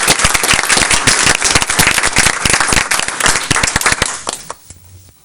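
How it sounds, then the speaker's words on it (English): Loud, close audience applause at a school board of education meeting, dense sharp claps for a few seconds before quickly dying away to near silence. "let's give Destiny a round of applause"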